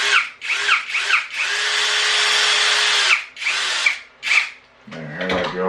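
A cordless power drill drives a screw into a K10 RC4WD build with several short whirring bursts, one long sustained spin, then a few more pulses as the clutch slips. The clip ends with a clattering ratchet.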